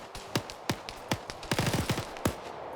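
An AGS automatic grenade launcher fires in Arma 3, sharp thumping reports spaced out at first, then a faster burst of several rounds, followed by one more shot, moderately close.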